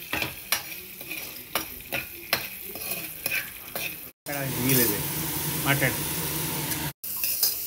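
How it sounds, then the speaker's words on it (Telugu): Peeled garlic cloves frying in a pan until brown for gongura chutney, stirred with a utensil in repeated sharp scraping strokes over a constant sizzle; a voice speaks briefly near the end. "వెల్లుల్లిపాయలు బ్రౌన్గా వేగాయి"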